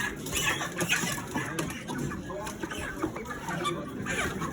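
Poultry chickens cluck and squawk continuously at a chicken sales shop, a busy, close flock with people's voices murmuring underneath.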